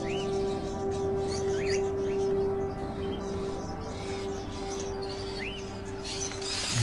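Birds chirping in the video game Indigo Prophecy: short rising tweets repeat at intervals over a steady droning hum and a faint background hiss.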